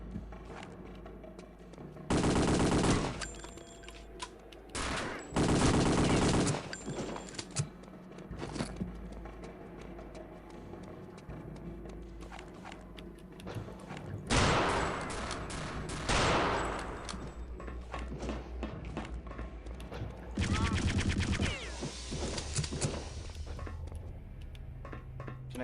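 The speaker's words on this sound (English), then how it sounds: "Basically, I got me a Gatling gun." Gatling gun firing in a video game, several long, loud bursts of rapid continuous fire separated by quieter stretches of ambient game noise, with little talk.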